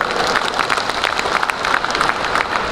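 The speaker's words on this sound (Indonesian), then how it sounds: "Tepuk tangan untuk Sumsel" A crowd applauds for South Sumatra's team at a government cooperative event with the Coordinating Minister for Food, steady dense clapping that stays close and fairly loud for about three seconds with no break.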